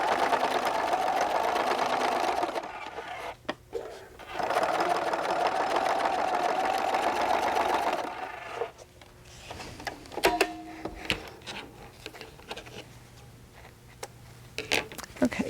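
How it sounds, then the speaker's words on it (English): A sewing machine top-stitches vinyl in two loud bursts of rapid stitching of about two to three seconds each, followed by quieter handling clicks and rustling. "I usually top stitch about 1/8 of an inch from the seam"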